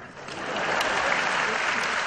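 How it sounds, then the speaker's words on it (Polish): Audience applause at a jubilee gala of festive sing-along songs in Poznań's Sala Ziemi, a dense steady clatter of many hands swelling after a soft start and holding loud throughout. "Tak, tutaj sobie wpisałem brawa."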